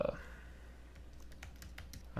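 Rapid computer keyboard typing while a resume is written, with a steady run of soft, fairly close key clicks over a faint background hum.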